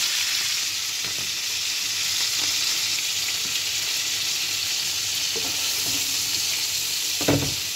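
Shrimp fry in a pan with a steady, continuous sizzle throughout, broken by a few soft clicks and stirring bumps near the end.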